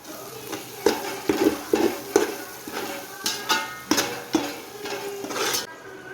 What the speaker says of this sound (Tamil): இப்போ அது நல்லா அந்த ஆனியன் பேஸ்ட்டு கூட நல்லா அது கிண்டி விட்டுக்கலாம்